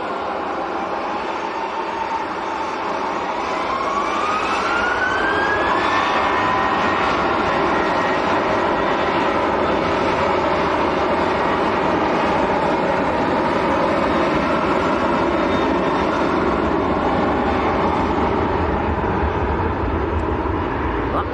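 A Ryanair airliner at Manchester Airport spools up for its takeoff roll, a loud steady jet roar with a rising engine whine, continuous and fairly close, with faint background noise throughout.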